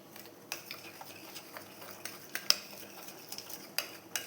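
Butter cream with powdered sugar and ground cardamom stirred together in a bowl for bun maska, giving soft scraping and clinking of a spoon against the dish in irregular strokes, fairly quiet and close, with no talking.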